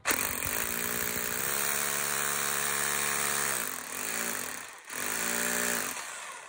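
A Makita HR2470 rotary hammer drill with a fault in its hammering action runs loud and close with a droning motor hum, starts fast, dips briefly, then runs on.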